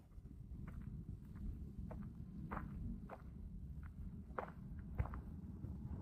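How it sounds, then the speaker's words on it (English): Light footsteps crunch at an even walking pace on an outdoor path in a desert area, fairly distant, over a steady low rumble of wind. "Can you hear my footsteps over there?"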